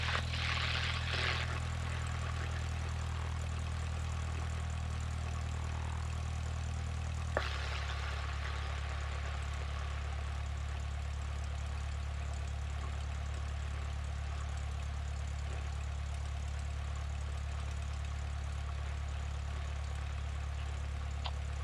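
A light single-engine propeller airplane idles and taxis toward the runway, a steady low engine drone heard from inside the cabin, with a brief click and shift in tone partway through.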